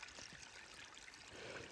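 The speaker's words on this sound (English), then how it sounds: "it's obviously just water running down the trail. It's part of the creek." Creek water running down a hiking trail on the Appalachian Trail between Rutland and Bennington, a steady soft trickle and babble close by, continuous and even throughout with no voices.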